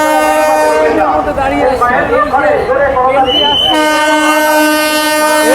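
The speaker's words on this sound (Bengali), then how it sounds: "ট্রেনটা এখন ঢুকছে দেখুন বন্ধুরা" A passenger train pulls into a station on the Krishnagar–Amghata line, sounding a loud, sustained horn that breaks off briefly while crowd voices rise, then blares again close by.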